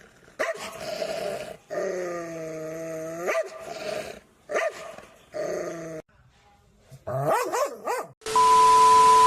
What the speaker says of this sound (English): Its hostility and the way it mindlessly barks and charges at anything that comes near it.